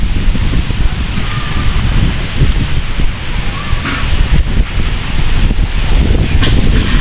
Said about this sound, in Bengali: এমন বাতাস হচ্ছে, বাতাসের জন্য ছাদের উপর দাঁড়ানো যাচ্ছে না